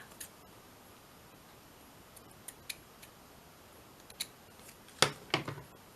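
Scissors snipping paper to shape a lacy journal pocket, faint sparse clicks at first, then a few sharper close cuts near the end against a quiet room.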